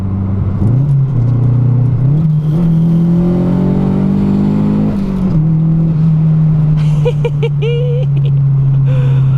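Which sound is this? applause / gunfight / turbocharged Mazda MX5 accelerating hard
turbocharged Mazda MX5 accelerating hard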